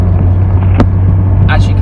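VW Caddy Mk2 SDI diesel engine labouring up a hill, a loud steady low drone heard from inside the cab, with brief bumps and a short voice-like sound over it.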